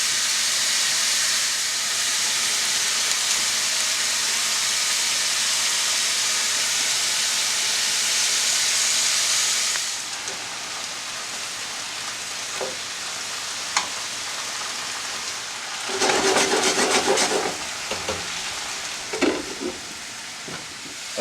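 Pork chops sizzle and steam in a hot pan, a loud steady frying hiss for about ten seconds, then quieter crackles with a brief louder burst of sizzling and scattered pops.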